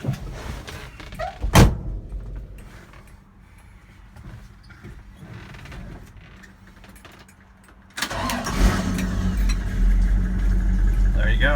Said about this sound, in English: I'd be probably upsetting a lot of people if I made a video about the exhaust and didn't actually crank the vehicle and let you hear it